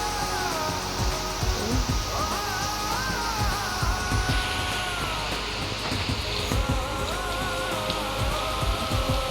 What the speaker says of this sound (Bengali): বৃষ্টি পড়ছে তো হেভি লাগছে